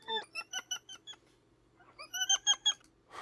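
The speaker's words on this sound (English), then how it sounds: "Little capuchin monkeys." Capuchin monkeys give bursts of high, squeaky, chirping calls, a quick series of short notes, a pause, then another rising flurry, fairly faint and alone without talk.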